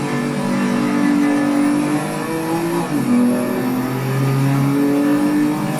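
A Porsche 962C race car engine in Assetto Corsa on PS5 at the Nordschleife, a loud, steady high-revving drone that holds its pitch with a brief dip and shift around a gear change, with no talk over it.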